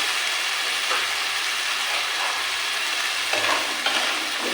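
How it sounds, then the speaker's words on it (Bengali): Green peas fried and stirred in a pan with tomato, ginger, green chili and spices for matar paneer, a steady loud sizzle with scraping stirs recurring every second or so. "এবার টমেটো আর মশলার সাথে মটরশুঁটির দানাটাও কিছুক্ষণ কষিয়ে নেব"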